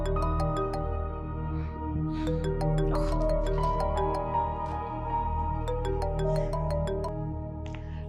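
Phone ringtone chiming in a repeating melodic pattern during an outgoing call, steady and fairly loud over a low background hum, with no talking.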